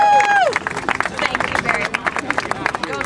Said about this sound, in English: Ladies and gentlemen, give them both a round of applause.